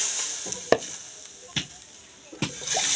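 Potatoes and a splash of water added to a hot cooking pot: a continuous hiss with three distinct clunks or splashes spaced about a second apart, close by and fairly loud, no talking.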